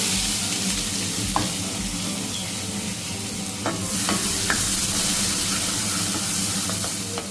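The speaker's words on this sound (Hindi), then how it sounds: "अब हम इसमें डालेंगे 1 बारीक प्याज काट के हमने रखी थी वो" Chopped onion sizzles steadily in a hot pan of oil while being stirred for dhaba-style dal dhokli, a constant frying hiss with occasional scraping clicks from the stirring spoon.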